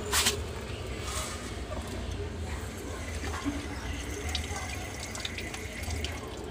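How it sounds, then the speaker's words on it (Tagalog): Water from a tap pours in a steady stream while being added to liquid caustic soda for cleaning a wheel rim, a close, continuous splashing flow with a sharper splash at the start. "Tapos lagay natin ng konting tubig para hindi siya masyadong matapang."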